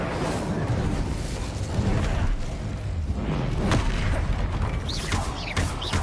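A Confringo blast spell cast in the Hogwarts Legacy video game, heard as bursts of booming, whooshing impacts over a dense, noisy game-combat background.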